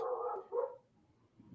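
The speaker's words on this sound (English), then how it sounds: "We need more dogs." A dog gives a short bark or two, fairly faint and brief, with a quiet room behind it.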